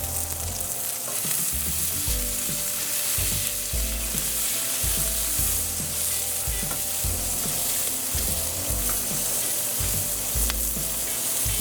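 Pork sizzles steadily in a hot pan while being stirred, a loud, continuous frying hiss with repeated scraping and stirring knocks close by, no voices.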